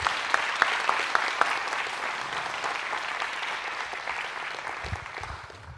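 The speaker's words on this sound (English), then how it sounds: "How about a round of applause for these students?" An audience at an evening event for Future Marriage University students applauds them: many hands clapping together in a dense, loud, sustained ovation that eases slightly toward the end.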